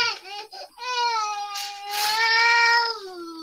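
Indoors, a cat gives a few short meows followed by a long, drawn-out plaintive meow, close to the microphone and heard alone.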